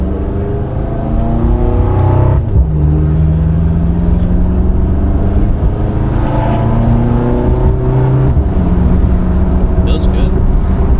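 A BMW M5 with a built engine accelerates hard from inside the cabin, its loud steady engine note rising through each gear with crisp breaks at the shifts, and a voice speaks briefly over it.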